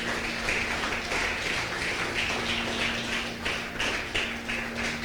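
Church congregation clapping during a Spanish-language service, a dense, steady patter of many hands held at a fairly quiet, distant level over a faint low hum.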